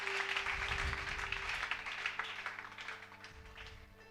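A church congregation applauds in praise of God, a steady wash of clapping from a crowd that slowly thins and fades, over a low sustained organ-like drone.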